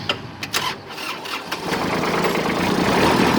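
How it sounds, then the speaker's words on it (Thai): A 34 hp Kubota tractor with a weak battery cranks with a few uneven catches, then its diesel engine fires and settles into a loud, steady idle up close. "รถสตาร์ทติดง่ายนะครับผม แต่ว่าแบตอ่อนหน่อย"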